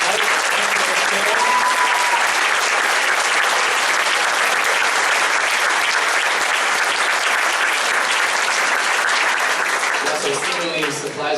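Loud, sustained round of applause from a concert audience at a combined orchestras performance in a school setting, dense clapping filling the whole stretch without pause and easing only slightly at the very end.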